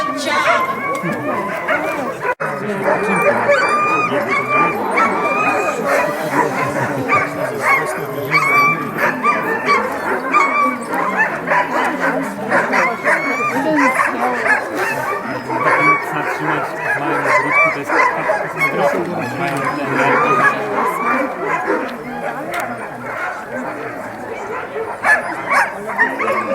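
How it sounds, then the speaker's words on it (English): A team of Alaskan sled dogs barks and yips excitedly in a dense, continuous chorus, loud and close, with occasional whimpers and human voices underneath. "listen how excited these dogs do"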